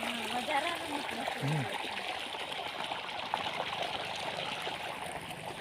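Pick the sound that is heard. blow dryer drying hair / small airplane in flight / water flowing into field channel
water flowing into field channel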